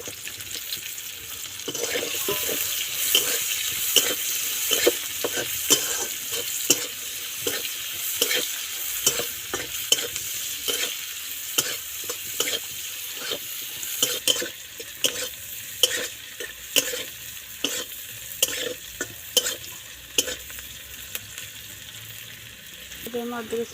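Onions fry in hot oil in a pan with a steady sizzle, broken up by repeated scraping and clinking strokes of a stirring spoon throughout, close and fairly loud, with no voices.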